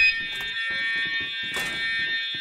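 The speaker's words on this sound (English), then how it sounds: "Alarm." An alarm goes off in the DayZ video game, a loud, steady high-pitched electronic ringing tone that runs throughout, with scattered thumps and movement noises underneath.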